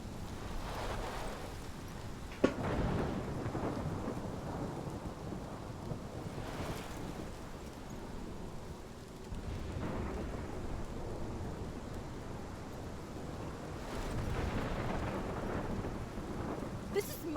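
A thunderstorm in the game Life is Strange: heavy, continuous rain with repeated deep rolls of thunder swelling and fading, steady and enveloping with no one speaking.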